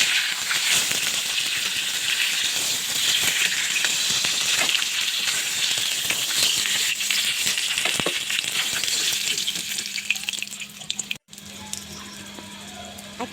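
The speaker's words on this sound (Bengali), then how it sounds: "শুকনো মরিচটাকে কিছুক্ষণ লালচে করে নেড়ে চেড়ে ভেজে নেব।" Dried red chili sizzling in hot oil in the same pan that fried rohu fish heads, a steady close crackling hiss with small pops that drops lower near the end.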